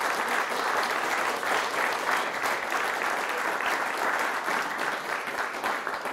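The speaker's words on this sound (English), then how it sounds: "So if I could ask everybody just to give this team of students a hand" An audience applauds a team of students at a Māori innovation research event, with dense, sustained clapping that holds steady and fairly loud throughout, with no voices standing out.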